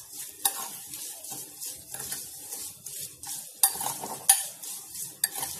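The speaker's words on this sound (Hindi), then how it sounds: "मिर्च में इसे बहुत अच्छे से मिक्स करेंगे।" Salt is tossed and stirred through chopped green chilies, giving a steady run of close, soft scraping and rustling with a few sharp clinks of a utensil against the bowl, and no voices.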